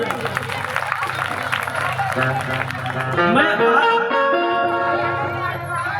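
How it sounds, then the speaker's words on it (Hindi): An audience claps loudly for a singer named Manjeet at a stage event, with dense, steady clapping over the first few seconds before music with sustained tones takes over. "मैं चाहूंगा मंजीत भैया के लिए एक बार जोरदार ताली हो जाए"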